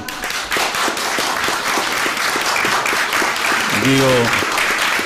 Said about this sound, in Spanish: he dicho algo que ha traído aplausos